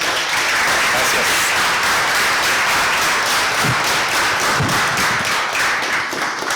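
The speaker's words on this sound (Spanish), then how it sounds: "Un aplauso, por favor" An audience applauds a guest lecturer after a talk on magmatic system evolution and caldera collapse: dense, steady clapping fills the whole stretch at full loudness, with a couple of low thumps mixed in.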